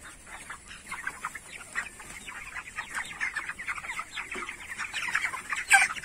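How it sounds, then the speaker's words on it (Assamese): Broiler chickens about 26 days old, roughly 1.3 kg each, on a poultry farm in Assam keep up a steady chorus of clucks and chirps at moderate volume, with a louder burst near the end and no talk. "আৰু মুৰ্গীখিনি দেখুৱাই দিয়া অকণমান"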